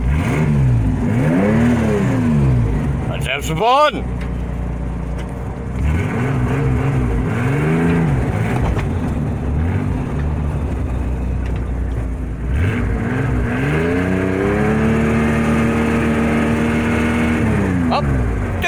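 A logging truck's diesel engine runs and revs repeatedly, rising and falling in pitch in several surges before settling into a steady higher drone, loud and close, with someone speaking briefly over it.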